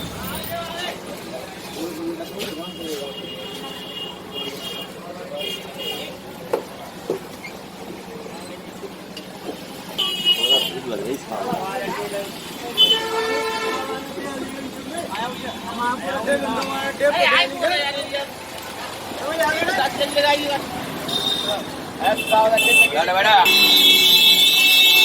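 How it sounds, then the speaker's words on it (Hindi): A busy bus stand in Etah, India, with engines, passing traffic and bursts of car and bus horns sounding at intervals, the noise building toward the end while people talk nearby. "हम गाड़ी में बैठेंगे, मतलब बस स्टैंड पे आ चुके हैं।"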